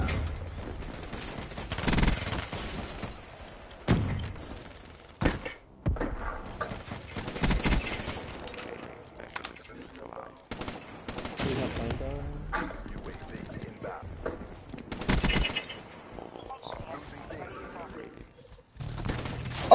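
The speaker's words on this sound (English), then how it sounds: "Oh god, that's a minigun." In Black Ops 3 on Nuketown, a minigun fires repeated bursts of rapid gunfire, some loud and some more distant, mixed with other game sounds while players talk over the action.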